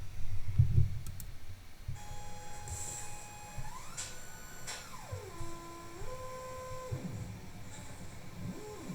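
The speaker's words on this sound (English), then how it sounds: "Notice the clicking when it's below audio frequencies." Analog synthesizer oscillator running at sub-audio rate produces repeated clicks over a steady hum, with sweeping tones gliding up and down.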